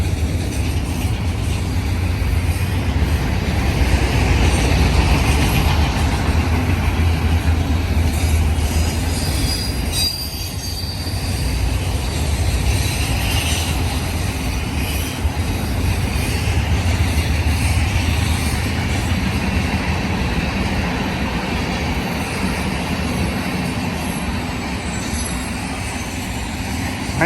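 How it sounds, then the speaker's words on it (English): A BNSF mixed manifest freight train hauled by GP60M locomotives rolls past on the main track, loud and close, with continuous wheel rumble, rattling cars and high squealing of wheels on rail throughout. "Nice train."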